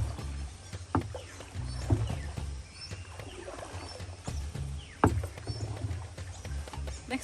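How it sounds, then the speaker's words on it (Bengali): Rowing a boat on water at a resort, with oar strokes splashing and dipping at irregular intervals over a steady low rumble, moderately close and fairly quiet. "দেখছো তোমাকে আমি নৌকা চালাই চালাই নিয়ে যাচ্ছি ঘুরতে"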